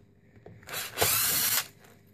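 A power driver briefly whirs up and runs for about a second as it backs out a screw on an electric chainsaw being repaired, close and alone in a quiet room.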